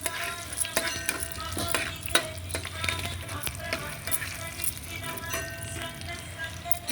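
Green and dried red chillies with curry leaves crackle in hot oil for a Telugu-style tempering beside cooking dal, a steady close sizzle with scattered pops and light stirring clicks throughout.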